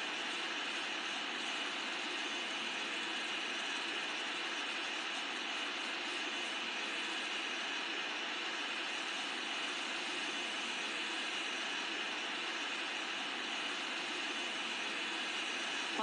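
Boeing 777-300ER jet engines in Infinite Flight simulator, taxiing at Kuala Lumpur: a steady, unbroken broadband whine and roar holding at an even level with no breaks or voices over it.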